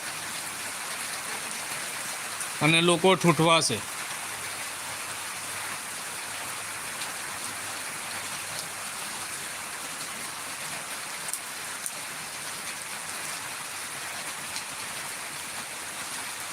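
Unseasonal rain falls at Jambughoda as a steady, even hiss throughout. A voice speaks briefly near the start.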